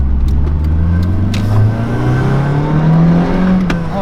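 Toyota AE86 engine accelerating steadily while driving, a loud continuous rising drone with climbing pitch from inside the car, alone without talk.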